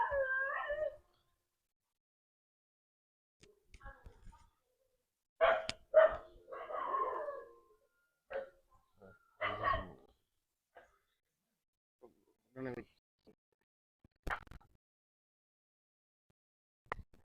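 A frightened dog barks, howls and whimpers in scattered short bursts while firecrackers are set off nearby, with quiet gaps between the cries.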